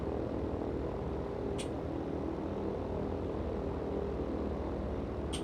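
Steady droning propeller aircraft engine from a premium plane in World of Warplanes, a loud continuous hum with two brief high-pitched blips and no talking.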